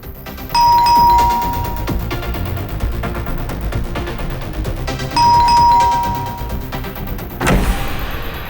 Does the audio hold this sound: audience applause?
no